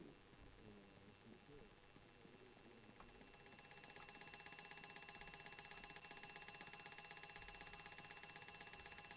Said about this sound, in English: wasn't there an alarm clock in here?